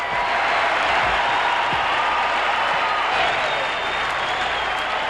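A large baseball stadium crowd of over 32,000 gives a standing ovation after a 2,400th career base hit, a loud, steady roar of cheering and applause that fills the whole clip without a break.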